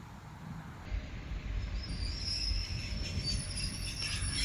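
Inside a moving passenger train on the Baikal-Amur Mainline near Tynda, Russia, a steady low rumble runs throughout, with a faint high metallic whine rising partway through.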